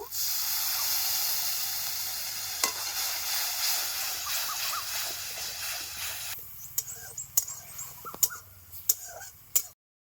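Spice paste with ground dried chilli and salt cooks in a pan after a splash of water, giving a loud steady hiss of steam that fades into a few sharp scrapes and taps of stirring.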